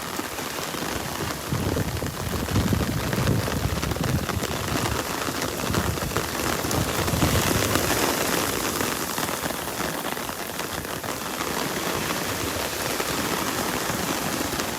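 Steady, heavy rain pours down on Vanderbilt Beach in Naples, Florida, during Tropical Storm Elsa, a dense, loud hiss that continues evenly throughout with no voices.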